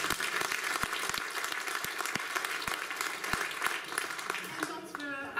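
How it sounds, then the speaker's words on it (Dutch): An audience at a talk applauds with sustained, dense clapping, with a few louder individual claps standing out, and a voice briefly joins near the end. "Applaus voor deze."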